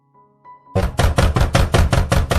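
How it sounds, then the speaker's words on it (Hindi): Knocking on a door from outside: a quick, even series of about nine loud, close knocks after a brief quiet stretch, with no voices. "तब बाहर से खटखट की आवाज आई, जैसे किसी ने दरवाजे पर हल्का सा इशारा किया हो"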